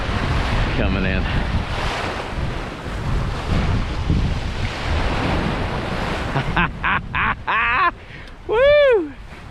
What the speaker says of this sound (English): Look at these waves coming in